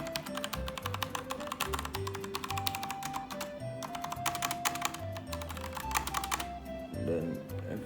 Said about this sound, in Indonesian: Dan ini suara brown switch.